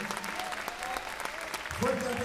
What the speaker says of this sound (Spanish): Fuerte aplauso para los músicos